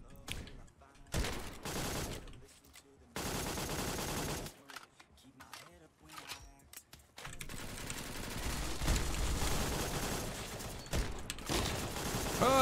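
Bursts of rapid automatic gunfire from the top-down shooter game Surviv.io crackle in dense volleys with brief gaps, loud and continuous toward the end, with some talk mixed in.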